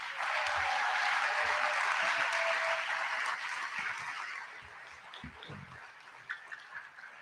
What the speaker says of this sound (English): Clap for the people who are standing.